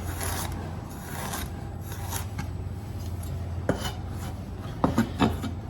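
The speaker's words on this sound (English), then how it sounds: "So when it comes to the ginger, just cut nice slices down." A knife cuts fresh ginger into slices on a cutting board with a rasping, scraping sound and a few sharper taps near the end, close and moderately loud over a low steady hum.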